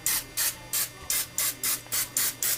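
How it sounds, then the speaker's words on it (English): Eight short hissing bursts of cooking spray onto non-stick mini muffin tins in a steady rhythm, close and fairly loud, with brief silent gaps between each spritz. "I'm going to spray my mini muffin tins"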